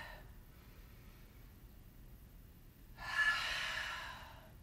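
Breathing during a yoga flow: a long, fairly close breath starts near the three-second mark, rising quickly and fading slowly after quiet room tone. It is heard alone, with no talk over it.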